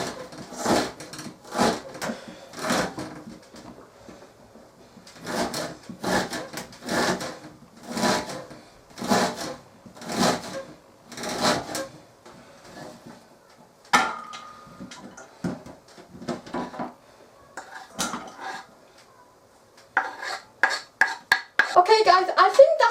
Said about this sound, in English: what I'm doing now is cutting up the onions. Just roughly chop them